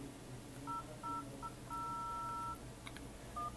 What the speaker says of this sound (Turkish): Mesela atıyorum böyle bir numara yazayım.